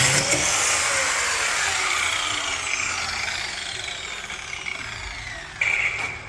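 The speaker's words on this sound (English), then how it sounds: "I think I need to do a slice with the grinder." Angle grinder slicing through sheet metal on a VW Bay Window bus body, a continuous loud high whine with shifting pitch as the disc bites, sustained close by for several seconds with a brief surge near the end.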